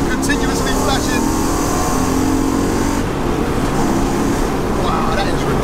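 Mercedes C43 AMG track car with a swapped 5.5 V8 drives hard on a circuit, its engine roaring loud and steady throughout, with a brief shift break near the middle and a voice talking over it.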